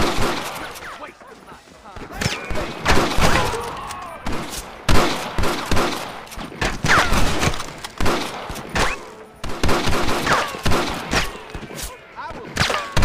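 Dense gunfire in the Western video game Red Dead Redemption, rapid overlapping shots and bursts cracking continuously, loud and close, with voices shouting among the shots.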